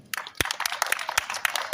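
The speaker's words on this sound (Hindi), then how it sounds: "तो निदा के लिए भी तालियां" A few students clap for a classmate during a Python programming class, scattered claps with a short burst near the start and then uneven taps, fairly faint in a room.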